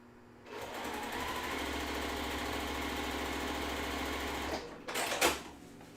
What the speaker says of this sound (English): This is my last square to sew the first pass.